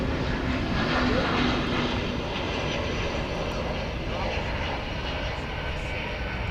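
An Airbus A321neo airliner at DFW Airport gives off a loud, steady, broad engine roar that holds nearly constant throughout, heard from a plane-spotting spot.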